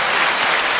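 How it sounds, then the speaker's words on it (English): Hand clapping, a brief burst of dense, fast claps close up, loud and alone without speech. "I need to clap."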